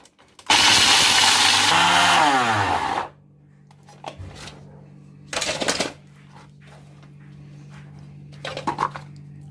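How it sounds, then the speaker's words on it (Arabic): A loud electric grinder grinding spices whirs for a couple of seconds, its pitch shifting as it spins down, followed by quieter short bursts and a faint hum. "خلي باش نطحن هادو"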